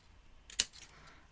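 Scissors snip once through paper for a stamped candy cane pouch craft, a single crisp cut in a quiet room with faint handling before and after.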